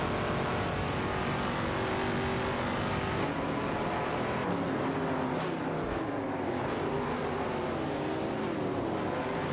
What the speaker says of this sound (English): Duff Dad in the Ferrari 275 GTBC is engaged in a tight tussle with Bobardo and Maya in the Shelby GT 350 for the 16th spot.